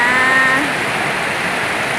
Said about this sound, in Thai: ฝนตกอีกแล้วค่ะ